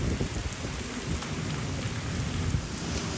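Heavy rain pours down in a village, a dense, steady hiss of drops drumming on surfaces close by, continuous and loud with no voices.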